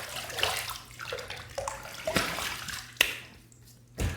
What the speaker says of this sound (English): Okay, so I have a little bit of water on my face.